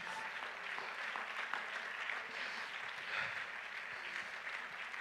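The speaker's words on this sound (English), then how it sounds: "Come on, clap your hands unto the Lord." A crowd claps steadily together during a church service, a sustained wash of hand claps at moderate distance with no talking.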